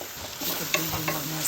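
Potatoes are stir-fried in a pan for a fish curry, giving a soft continuous sizzle with a couple of sharp spatula clinks, near and moderately quiet, no voices.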